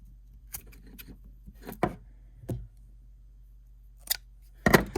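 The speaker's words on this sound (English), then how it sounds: "So I can take my scissors here and kind of trim it back." Scissors trim the end of a Kevlar saddle hunting rope: a few crisp, scattered snips and clicks, close and fairly loud, with quiet pauses between them and a faint steady hum underneath.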